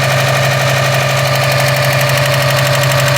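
A Subaru STI engine runs steadily and loudly up close with a strong droning hum and a rapid, regular ticking or knocking timing noise repeating throughout.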